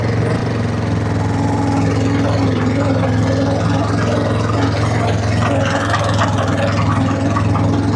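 A four-wheeler engine runs steadily while pulling a cultipacker for planting einkorn wheat, a continuous loud drone with a low hum throughout and no breaks.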